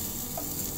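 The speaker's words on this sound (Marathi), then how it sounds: "कांदा घालतो आहे." Chopped onion dropped into a wide, hot kadhai with no oil yet, giving a steady, close dry sizzle and crackle throughout, with no talking.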